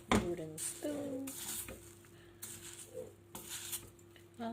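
A wooden spoon scoops freshly cooked rice in a non-stick pot, making soft, quiet scrapes and light knocks against the pot, with a few clinks and brief speech in between.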